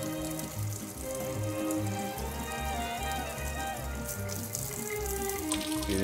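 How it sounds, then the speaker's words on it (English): Tap water runs steadily over a vinyl record as it is rinsed under a faucet, a close, continuous splashing and trickling that holds throughout without talking. "Run it back under the water again."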